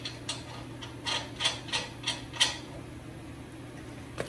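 A wrench tightening the nut on a swingaway folding hinge of a boat trailer, making a short run of evenly spaced metallic clicks and ratchet ticks up close, then quiet.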